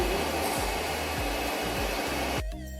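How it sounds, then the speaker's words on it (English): An electric hand mixer beats churros batter in a bowl with a steady, close motor whir, then cuts off near the end. "We need to beat this batter for around 2 minutes until it's light and fluffy."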